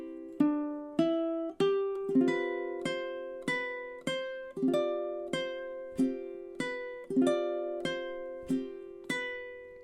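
Solo ukulele plays measures 10 through 13 of a standard, with about fifteen evenly spaced plucked chords ringing close and clear at a slow, sweet pace.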